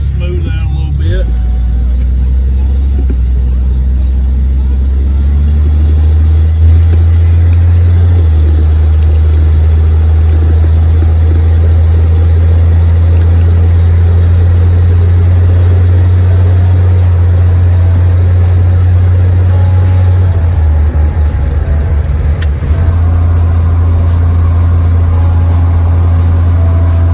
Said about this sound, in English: Still got that sputter